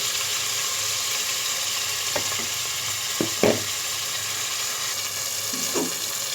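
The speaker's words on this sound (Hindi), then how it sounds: "अब हम इसको मिक्स करेंगे और इसको भूनेंगे हम जब तक इसका अच्छे सा कलर ना आ जाए" Chicken with ground spices and fried onion sizzles steadily in a pan, while a spoon scrapes and clacks against it a few times. No one speaks.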